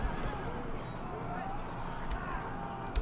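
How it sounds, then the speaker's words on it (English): Horses in the strategy game Field of Glory 2, a rumbling gallop with faint neighs beneath someone talking, steady throughout with a couple of sharper hoof thuds near the end. "And the horses give chase."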